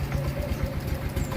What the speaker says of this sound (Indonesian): Sekarang kita coba hidupkan saja motornya.